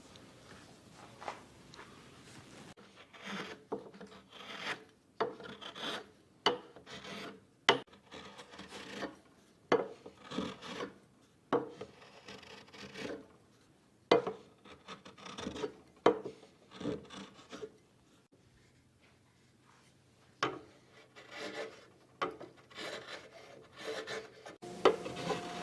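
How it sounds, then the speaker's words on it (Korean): A block plane and chisel trim a wooden rocker for a Maloof-style rocking chair, giving a steady series of short rasping, scraping strokes, quiet and close, with brief pauses between passes. "저는 이 블록 플레인하고 끌 이렇게 이용해서 칼선 가까이까지 다듬어 낸 다음에"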